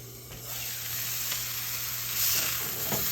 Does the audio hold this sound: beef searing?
yes